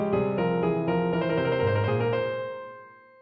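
Three-part music piece with the musicians out of sync, short tonal notes entering at staggered times before the sound settles on a sustained chord that fades out.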